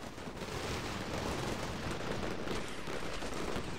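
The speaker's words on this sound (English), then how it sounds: "they're gunning them down, throwing hand grenades." Dense gunfire and hand grenade blasts in the military video game Combat Mission Shock Force 2, a continuous wash of rattling shots and explosions at moderate level.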